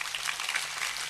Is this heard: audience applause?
yes